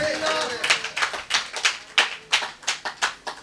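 A church congregation clapping hands together in a steady, rhythmic beat, about three claps per second, sharp and fairly close.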